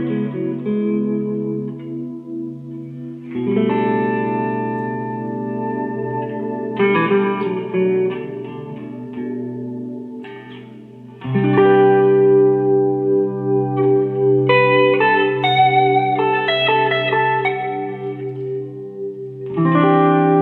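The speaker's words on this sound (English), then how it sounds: "I find a very useful way to increase sustain of the note by blooming the delay after I've plucked the note" Guitar chords run through a Neunaber delay pedal, each strummed chord swelling and blooming into long, layered sustain that overlaps the next, loud and continuous with no voices.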